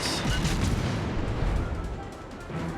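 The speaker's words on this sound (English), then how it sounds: "That guy's shooting at us now." Ship guns fire in a naval battle game, a run of heavy, overlapping booms rolling at moderate loudness over a constant low rumble of battle noise.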